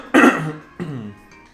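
A man clears his throat and then gives a shorter cough, two close, brief bursts with a quiet pause between them.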